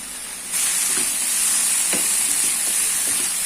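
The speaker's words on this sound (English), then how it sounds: "The flame should be low only. The masala should not get burned. Just cook it for half a minute." Masala spices cooking in a pan over a low flame for butter chicken, a steady soft sizzle and hiss starting after a moment and holding evenly, with a few faint stir clicks.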